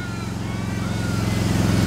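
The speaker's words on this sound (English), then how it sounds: "you'll really enjoy cracking the throttle open on a Softail Slim" A Harley-Davidson Softail Slim motorcycle engine as the throttle opens, a loud, steady low V-twin rumble that swells slightly over a couple of seconds.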